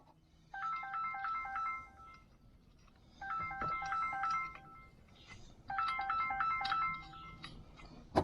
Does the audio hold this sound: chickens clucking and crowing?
no